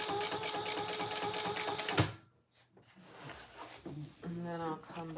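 Sewing machine stitching a laptop bag, a fast rhythmic needle run that stops abruptly, followed by short pauses and brief talking.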